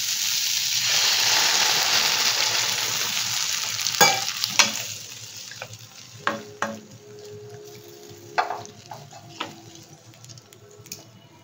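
Water with fennel seeds comes to a boil in a pan. A hissing rush fades into scattered, irregular bubbling pops close by.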